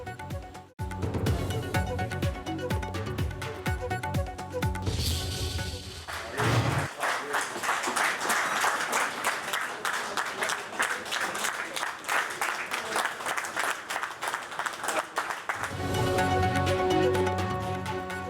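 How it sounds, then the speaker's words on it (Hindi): Federal cabinet ministers in Pakistan stand and applaud Prime Minister Shehbaz Sharif as he arrives at a cabinet meeting. Steady, dense clapping fills most of the stretch, loud and sustained, with music before and after. "वफाकी वज़रा ने खड़े होकर तालियां बजाईं"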